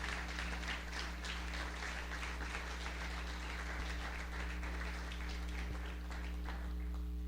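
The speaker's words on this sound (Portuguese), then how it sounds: "Pode aplaudir ao Rei dos Reis" Church congregation applauding after a sermon, a steady, dense wash of clapping held at an even level throughout, with a low steady hum underneath.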